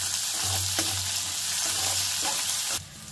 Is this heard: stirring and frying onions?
yes